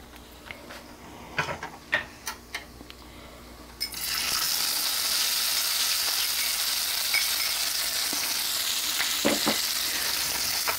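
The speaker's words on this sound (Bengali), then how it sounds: "এখন দিয়ে দিচ্ছি এর মধ্যে পেঁয়াজ কুচি।" Chopped onion hits hot oil with fried dried red chillies, bursting into a loud, steady sizzle after a few scattered clinks and taps, with occasional stirring scrapes under the continuous hiss.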